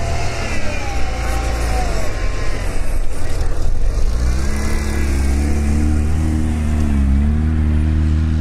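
An off-road 4x4 engine revs hard while pushing through a deep snowy pit, climbing and surging in pitch, close and loud, with the strain building toward the end.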